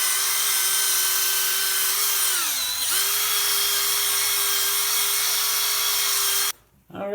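A drill spins small polishing pads over an epoxy-coated copper sink, a loud steady whine with a brief dip in pitch midway before cutting off abruptly near the end.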